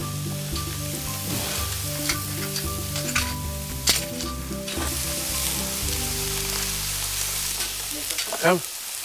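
Food fries in a pan with a continuous sizzle and crackle, close up, with occasional stirring scrapes and clinks and a faint hum underneath.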